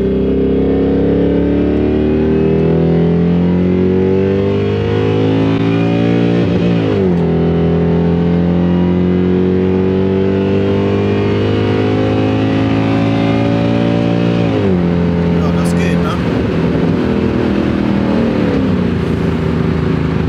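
Supercharged Mercedes C63 AMG accelerating, a loud, steady engine note that climbs in pitch, drops briefly at each upshift around the middle and near the end, then climbs again, with no talk over it.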